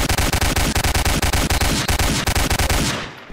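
Rapid automatic gunfire from the Roblox game Apocalypse Games comes in loud, evenly spaced bursts close to the listener, repeating several times before fading out at the end.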